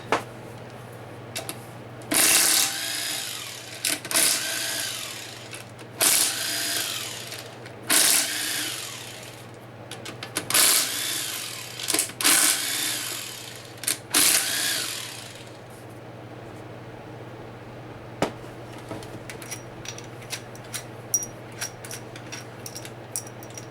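Hand tools work on an L60E automatic transmission as its oil pump comes out, giving bursts of metallic ratcheting and clatter in several rhythmic rounds up close, then sparse clicks and small taps of parts being handled.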